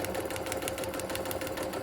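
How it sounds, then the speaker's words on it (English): Sewing machine stitching along a marked line through quilt fabric, a steady fast mechanical chatter held close and loud from start to finish. "we will stitch right through"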